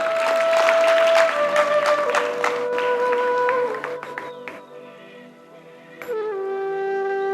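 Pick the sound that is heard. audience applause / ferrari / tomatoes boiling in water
audience applause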